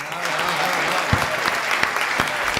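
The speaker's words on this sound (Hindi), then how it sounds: "तालियां कमजोर हैं दोस्त" Audience clapping at a Hindi kavi sammelan poetry recital, a steady dense patter of applause with a few sharper claps standing out, moderately loud and continuous with no talking.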